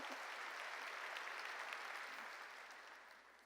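Applause from a church congregation during a sermon, a dense steady clapping that fills the room for several seconds and slowly fades toward the end.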